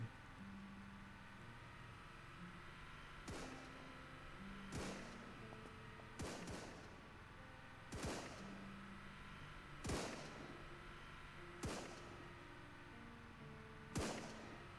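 Gunshots in the survival game SurrounDead ring out one at a time every second or two, about nine sharp reports over a droning background, fairly near and clear, with no talking.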